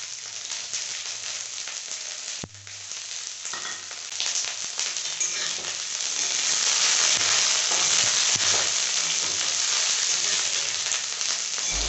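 Chopped onion, ginger, garlic, chilli and tomato fry in hot oil in a kadai, a dense hissing sizzle that swells louder partway through, with a sharp clunk near the start and stirring scrapes, close up and without speech.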